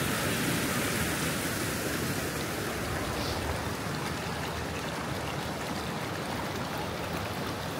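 A river rushes into a pico-hydro intake screened with galvanized steel mesh in a Nepali mountain village, a steady broadband wash of flowing water with no voices.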